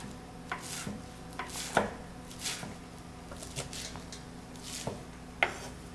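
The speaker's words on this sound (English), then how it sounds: "you're taking a handful of kale and you're cutting it in ribbons, so very, very finely cut" Knife slicing handfuls of raw kale into very fine ribbons on a cutting board, soft, quiet, irregular taps and crisp cuts close by with a low background hum.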